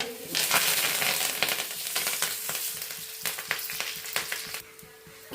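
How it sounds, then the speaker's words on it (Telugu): Rice semolina frying in oil, sizzling steadily while a spoon stirs it with repeated scraping and crunching strokes, close and fairly loud before easing near the end. "ఇప్పుడు కలుపుకుంటూ ఒక 5 మినిట్స్ ఫ్రై చేయాలి."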